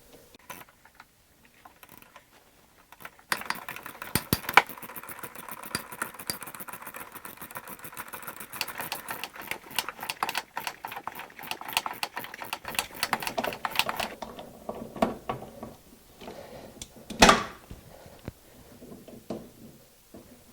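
A ratchet wrench clicks rapidly and repeatedly while breaking loose a rusted bolt on the rear lower control arm of a Jeep Liberty. Bursts of close mechanical ratcheting are separated by short pauses, with a sharp clank near the end.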